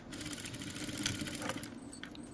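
A sewing machine stitches the back neckline of a kurti, a quiet steady mechanical whir running the whole time with faint clicks, close but soft, with no talking.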